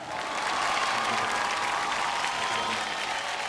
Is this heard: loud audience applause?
yes